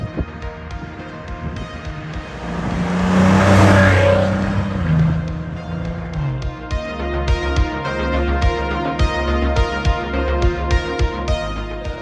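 A 3-liter twin-turbo V6 car engine accelerates with a rising, roaring drone, then settles into a rhythmic running sound with wind noise, loud and close.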